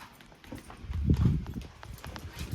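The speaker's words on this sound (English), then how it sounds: "So there, we've harnessed a horse." A harnessed horse walks steadily, its hooves clip-clopping in an even rhythm close to the microphone. The steps grow loudest around the middle and then fade slightly.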